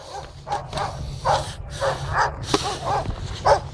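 A small dog barks repeatedly on a private ski slope at Kopa, Karpacz, a series of short yips and barks spaced about every half second, moderately close over light wind.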